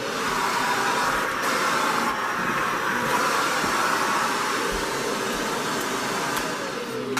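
A lift-away vacuum cleaner runs nonstop with a steady, even motor whir and airflow hiss at moderate level, unbroken for the whole stretch and with no voices.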